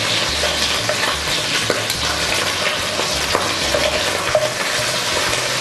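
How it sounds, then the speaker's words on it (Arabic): Chicken pieces sizzle and fry in a pan for a maqluba, stirred and turned over with steady scraping under a constant loud hiss, with no voices. "نقلب الفراخ على كل النواحي"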